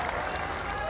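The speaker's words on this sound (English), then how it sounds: "Listen to the cheer." Indian supporters at a pickleball match in India roar and applaud in a dense, steady wash of crowd noise, with a voice faintly mixed in.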